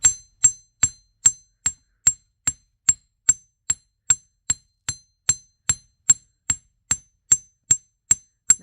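A chasing hammer strikes the end of a wire on a steel bench block to flatten the tip for a wire-wrapped necklace, about twenty sharp metallic taps in a steady, even rhythm, close and distinct, with no talk.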